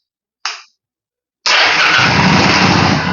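A cheap used motorcycle engine being started: a brief cranking burst, a short pause, then the engine catches and settles into a loud, steady, rough idle close by.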